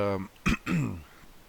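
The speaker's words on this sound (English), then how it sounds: "I keep clearing my throat" A person clears their throat a couple of times, close and fairly loud, with short raspy bursts and no other talk.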